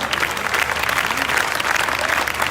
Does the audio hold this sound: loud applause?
yes